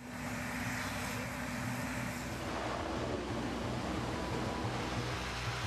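U.S. Navy LCAC landing craft air cushion hovercraft engines roar in a loud, constant wash of engine and fan noise with a pulsing low drone, steady throughout with no talk.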